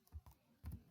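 A few faint, separate keystrokes on a computer keyboard as a blog address is typed, close but very quiet with a short pause between taps.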